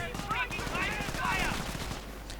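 Machine gun fire rattles in a 1v1 real-time strategy match, rapid bursts mixed with other battle noise at moderate level under an overlaid voice.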